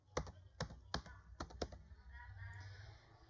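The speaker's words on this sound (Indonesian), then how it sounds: "di sini kita akan mengetik yaitu bilangan primanya itu yaitu kita ketik primes" Keys clatter on a computer keyboard while entering a command in MATLAB, five or six sharp, close clicks in an uneven burst followed by quieter background hum.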